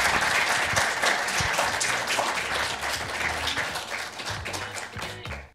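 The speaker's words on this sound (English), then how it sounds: "Let's give them a round of applause" A live podcast audience at IUPUI breaks into sustained applause, dense steady clapping from a crowd that holds for several seconds before tapering off at the end.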